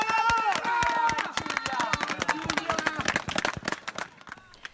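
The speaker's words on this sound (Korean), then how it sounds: "소방대원들이 조심스럽게 아이를 끌어올리자 환호성이 터집니다" A crowd cheers and shouts as firefighters lift a 10-year-old girl from the rubble of a collapsed building after a magnitude 6.2 earthquake in Perugia, Italy. Loud overlapping voices and scattered claps come close together, then thin out toward the end.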